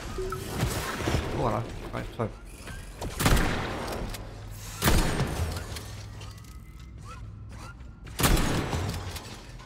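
Gunfire from a gun in the video game Atomic Heart, with several sharp, loud bursts spaced a few seconds apart over continuous mechanical clatter and background game noise.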